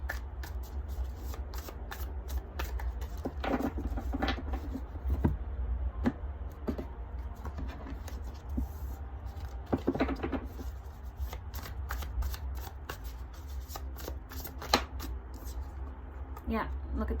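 Muse Tarot cards being shuffled steadily, a soft continuous riffling with crisp flicks, under a low hum and intermittent talking.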